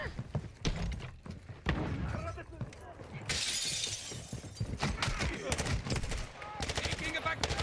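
Gunfire in the Black Ops 6 video game, with bursts of shots and a shattering crash amid busy game effects, while voices talk over the action.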